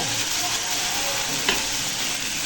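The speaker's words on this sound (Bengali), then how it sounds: "আর মিনিট দুয়েক একটু ভেজে নিয়ে এটা আমি উঠিয়ে নেব।" Greens frying in a wok give off a steady, loud sizzle, with a faint scrape of stirring partway through.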